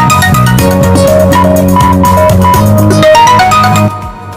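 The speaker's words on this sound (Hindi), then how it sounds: "जैसा कि आपने सुना कि इसने लाउड आवाज़ में टोन को बजा दी, मोबाइल की रिंग टोन बजने लगी।" A mobile phone blares its ringtone at full volume, set off remotely through Find My Device, as a loud, steady repeating melody of bright tones that cuts off near the end.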